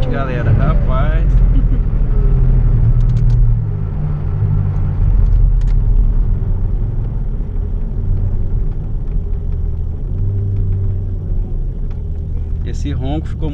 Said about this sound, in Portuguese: Esse ronco ficou muito bonito